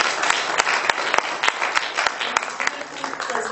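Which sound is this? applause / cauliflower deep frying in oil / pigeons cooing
applause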